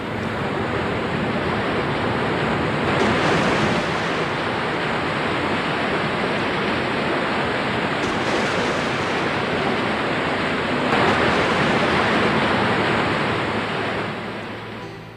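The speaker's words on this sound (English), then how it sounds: "Flash flooding will take some animals by surprise as the stream swells and roars down the mountain in a torrent of foam." A flash-flooded mountain stream roars down in a foaming torrent, a dense, steady rush of water that stays loud and unbroken throughout.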